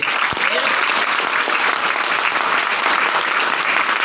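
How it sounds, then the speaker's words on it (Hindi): A training boot camp audience claps loudly and continuously, a thick, even roar of many hands throughout. "एक जोरदार तालियां अपने लिए बजा दो क्योंकि आपने डिसीजन ले लिया"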